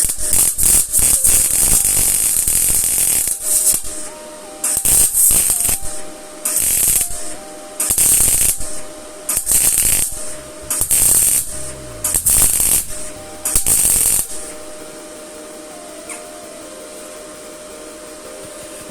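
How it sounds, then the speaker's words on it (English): A Stahlwerk MIG200St MIG welder welds steel at 120 amps and 21 volts. It makes a loud, harsh crackling hiss in repeated bursts of one to two seconds separated by short pauses, like a series of tack welds, with no talk. "if I try to weld in one smooth pull, then I'm going almost straight through"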